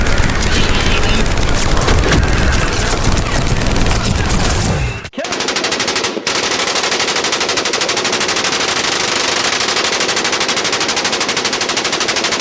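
Gunfire in the video game Mass Effect 3, dense rapid automatic bursts close and loud, a brief break, then continuous rattling fire with explosive booms.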